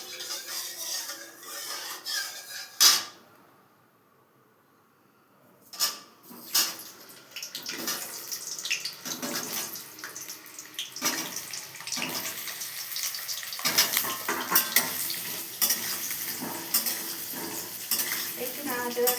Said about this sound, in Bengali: এবার একটু নাড়াচাড়া করে আলুগুলো ভেজে নেব, মাংসের আলুগুলো